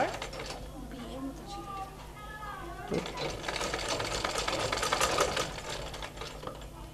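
A sewing machine stitches a hook loop into a blouse, its needle running in a steady, fast whirr that grows louder midway, while a person talks alongside.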